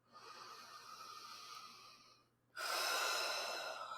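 A person breathes deeply and alone at close range, taking one long, slow inhale, pausing briefly, then releasing a louder, airy exhale.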